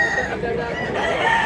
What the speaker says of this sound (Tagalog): Wapo manok.